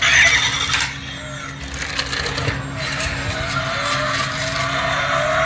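A pull-back toy rev car whirs as its gears spin, a high rising whine repeated several times over a steady mechanical buzz, close and loud.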